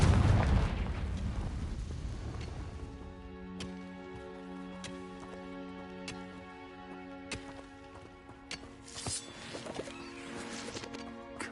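A Confringo spell blast in a video game erupts in a low, rumbling burst that fades into quieter ringing tones and scattered sharp pops.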